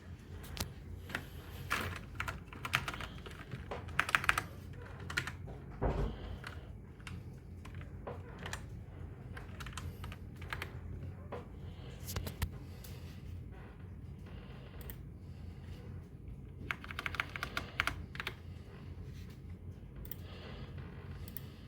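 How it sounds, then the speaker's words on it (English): Typing on a computer keyboard while a Windows install tutorial is set up, with quiet clusters of key clicks in irregular bursts against a low background hum throughout. "You type in drivers cloud."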